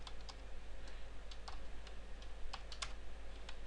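Quick, uneven clicks of someone typing code on a computer keyboard, faint and close, with irregular bursts of keystrokes over a low steady background hum.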